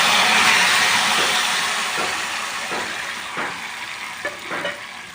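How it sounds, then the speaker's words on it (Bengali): Boiled greens added to a spice tempering in oil on low heat, a steady sizzle that slowly fades, punctuated by several soft stirring knocks. "এবারে এই সেদ্ধ করা শাকটা আমি এর মধ্যে দিয়ে দেবো।"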